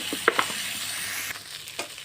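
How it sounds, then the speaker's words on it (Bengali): Taki (snakehead) fish frying in a pan on low heat, a soft continuous sizzle broken by a few sharp clicks and scraping stirs. "তাই অল্প আঁচে ভাজতে হবে।"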